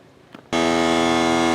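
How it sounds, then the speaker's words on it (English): A loud, steady mechanical drone with a harsh buzzing hum kicks in abruptly after a brief quiet moment and runs on continuously. "That's my air compressor compressing air."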